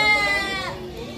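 A goat bleats loudly nearby at a livestock market in Padre Garcia, Batangas, a single wavering cry that trails off, with other animal sounds faintly behind it.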